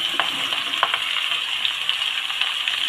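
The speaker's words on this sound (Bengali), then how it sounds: "তেলের মধ্যে দিয়ে দিলাম সব সবজিগুলো" Sweet potato, beans and green chillies fry in hot oil with a steady bright hiss and scattered crackles and pops, close and continuous.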